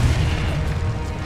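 A Confringo spell explosion in Hogwarts Legacy booms as a loud, dense, sustained rumble with heavy low end, filling the short moment alone without any voices.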